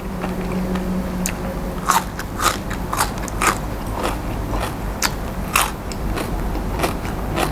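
Crunchy bites and chewing on grilled giant squid tentacles, a run of sharp crackling crunches close to the mic at irregular intervals over a faint background hum, with no talking.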